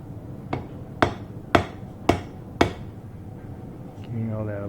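Five sharp hammer blows strike a Japanese naginata blade on an anvil at a steady rhythm, each ringing briefly and loud and close, followed by a low hum at the end.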